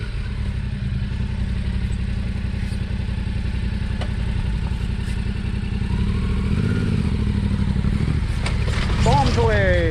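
A big adventure motorcycle engine idles and rumbles at close range, a steady low throb that keeps going before the revs rise near the end, with a voice heard faintly.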